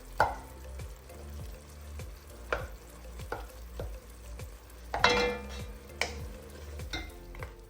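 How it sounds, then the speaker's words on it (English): Cooked urad lentils mashed with a spoon in an Instant Pot, with repeated soft scraping and knocking strokes against the pot, a few sharper clinks, over a faint sizzling background, close and without talk. "Now you want to mash them slightly with a spoon, like so."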